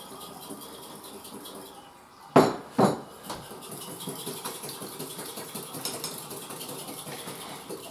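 A whisk works oil into a salad dressing for a Spanish-style summer salad. Two loud metallic clinks against the bowl are followed by a quieter, busy run of rapid scraping and tapping.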